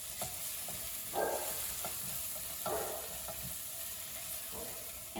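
Spices—coriander powder, cumin powder and red chili powder—stirred into hot oil for a keto kidney bean and black soybean curry, a steady sizzle with a few scraping spoon strokes, close and alone.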